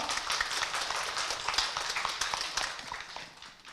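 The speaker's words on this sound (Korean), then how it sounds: "박수로 환영해 주십시오." Audience applause at a community education talk event in Wanju, Korea, welcoming the county governor to the stage; steady dense clapping of a seated crowd, moderately loud, fading slightly toward the end.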